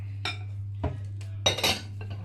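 Brown sugar and butter being mixed in a bowl, with a utensil clinking and scraping against the sides in several short, close strokes over a low steady hum.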